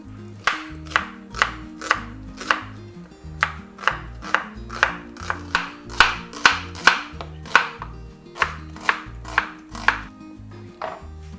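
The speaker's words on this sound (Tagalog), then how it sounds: "Ikakat na rin natin ang ating kamatis." Four tomatoes are chopped with a knife on a cutting board in a home kitchen, giving a steady run of crisp, close thuds in quick, even groups with short pauses, and no talking.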